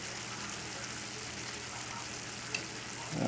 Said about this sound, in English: Just lower the flame now to a simmer because this is hot already.